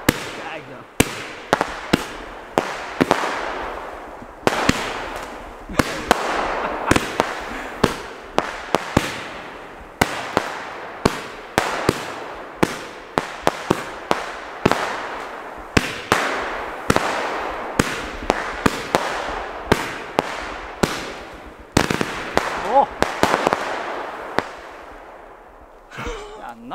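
Fireworks rockets are set off outdoors, giving a long series of sharp, loud bangs and crackling bursts at irregular intervals, some in quick clusters, with the occasional faint voice between them.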